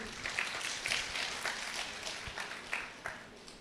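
A church congregation at Kreupasanam clapping together in thanks, a steady dense applause of many hands heard at a distance, with a voice faintly audible beneath it.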